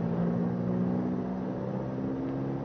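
A small airplane's engine drones steadily and loudly through its takeoff roll on a runway, a continuous rough hum with strong low harmonics and no voices.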